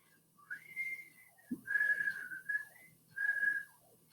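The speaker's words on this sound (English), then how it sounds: "A flute is played like this." A soft, breathy flute plays a few sustained notes with pauses between phrases, quiet and alone.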